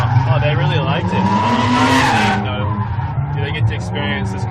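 Loud, close tire squeal from a Kia Stinger drifting at SEMA 2017, rising into a harsh, noisy screech midway over a constant engine roar, with people talking over the din.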